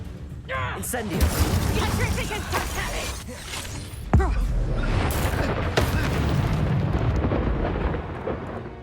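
Fire spells blast and roar during spell combat in Hogwarts Legacy, a dense, loud run of booming bursts and crackling flame with sharp impacts near four and six seconds, and voices mixed into the din.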